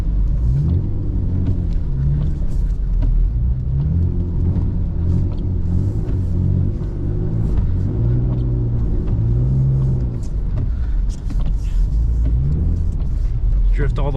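BMW E39 sedan driving and drifting through deep snow in a blizzard, a low steady engine rumble with rising and falling revs, heard from inside the car with a person talking over it.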